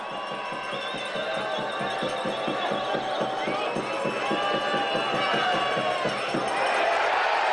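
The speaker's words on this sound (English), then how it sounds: "The crowd behind the sticks will tell you that's a fantastic conversion by Liam Finn." Rugby league crowd behind the posts at a 2013 Championship play-off semi-final cheering a successful conversion kick: a loud, sustained roar with rhythmic clapping that swells toward the end.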